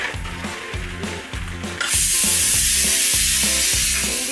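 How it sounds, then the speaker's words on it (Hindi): Okra fries in a pan over a slow gas flame on a medium stove. A soft sizzle suddenly swells into a loud, steady hiss that carries on without a break. "भिंडी को मेरी 15 मिनट हो चुके हैं फ्राई करते हुए"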